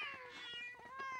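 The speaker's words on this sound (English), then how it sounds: "And you know, Glenn, after you moved away, Buttercup had kittens." Kittens meow in a Family Guy cartoon scene, a short high-pitched mewing cry rising and falling across about a second, heard close and alone with no talk over it.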